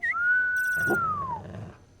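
A long, steady whistled tone in the video game CONVRGENCE, commanding a dog to stay, held for over a second, bending slightly downward at the end, followed by a brief burst of higher noise and rumble.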